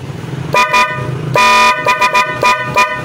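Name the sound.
PIAA dual contact horn sounding on a Honda ADV 160 scooter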